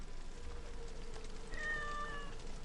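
A cat in the video game Assassin's Creed Origins gives a short, thin meow about midway through, rising over a quiet, steady ambient game background.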